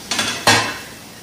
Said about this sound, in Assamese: ইয়াত অলপ লৰাই দিছোঁ।